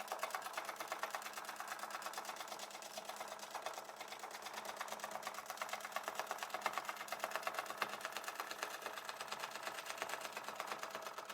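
A domestic sewing machine stitching free-motion with no feed dogs, a steady fast mechanical chatter running evenly throughout, close and moderately quiet with no talking.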